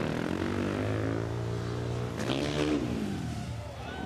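A factory Husqvarna motocross bike at an X Games Moto X QuarterPipe high-air contest revs hard, its loud engine note climbing and falling through a sweep as it passes, over a steady crowd-and-venue roar.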